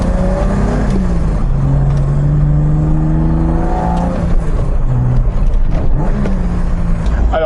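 A BMW E21's M20 inline-six engine revs loud and close, its tone climbing and falling in repeated sweeps with a steady mechanical roar underneath.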